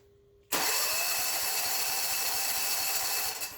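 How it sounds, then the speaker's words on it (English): A Briggs & Stratton generator engine that will not start cranks in one long continuous burst, a loud steady whirring drone close by, with no voices. "From the sound of the engine cranking"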